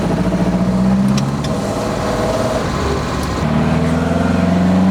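A 1967 Opel Rekord's engine rises in pitch as the car accelerates, a steady near mid-range drone that dips briefly mid-way, then climbs again with road noise underneath.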